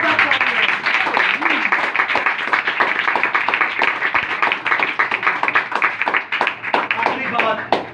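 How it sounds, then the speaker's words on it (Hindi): A church congregation claps loudly in a dense, sustained burst of rapid hand claps, with voices calling out over the applause. "यीशु मसीह के पास जोरदार तालियां"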